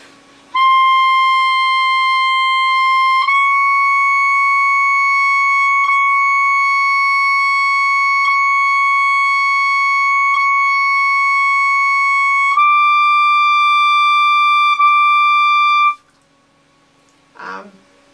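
Long sustained high altissimo notes played as slow long-tone exercises starting from D, each tone held steady for several seconds, loud and alone, with brief pitch steps between notes and a short noise at the end.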